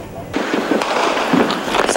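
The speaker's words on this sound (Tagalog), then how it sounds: "Sa taas ng isang gusali, nadokumento namin ang putukan." Gunfire recorded from atop a building during a military operation against the Maute group, sharp repeated cracks and bursts over continuous noise, with voices talking throughout.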